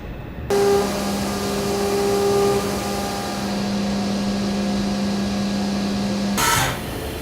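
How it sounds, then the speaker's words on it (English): A hand-programmed CNC fourth-axis machine cuts a 1.5-inch-diameter cylindrical part. It gives a steady, loud whine with sustained tones held for about six seconds and stops abruptly near the end, with no talking. "Now it's time to cut a part."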